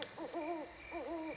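An owl hoots in a camp setting at night, several wavering, tremulous hoots in two close groups, clear and moderately near against a faint steady background hiss.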